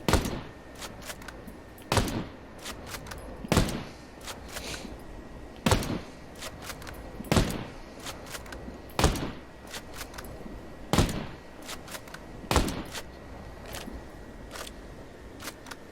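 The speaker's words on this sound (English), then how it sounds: "we'll do one sighting round, and then the rest of the magazine as quickly as we can" Zastava M93 rifle firing in the Ghost Recon Breakpoint game: about ten sharp, loud single shots spaced one to two seconds apart, each with a short echoing tail, no talking.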